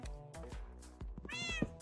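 A cat meows several times close by, drawn-out tonal cries with a louder, higher meow near the end, heard alone without talk.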